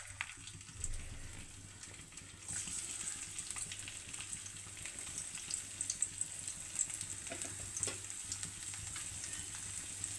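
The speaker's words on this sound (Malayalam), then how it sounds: "അപ്പോൾ നമുക്ക് ഓയിൽ ഒഴിച്ചു കൊടുക്കാം. ഇഞ്ചി ഇട്ട് കൊടുക്കാവേ." Ginger frying in oil in a pan for a Kerala prawn roast, a steady close sizzle that grows louder after a few seconds and continues without talk.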